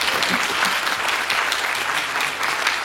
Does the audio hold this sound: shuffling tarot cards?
no